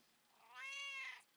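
A small cat lets out one loud, rising-and-falling meow lasting about a second, close and clear in an otherwise quiet room.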